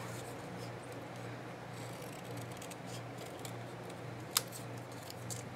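Scissors cut out small pieces during a sunflower craft project, giving faint, sparse snips over a steady low room hum, with one sharper close click partway through.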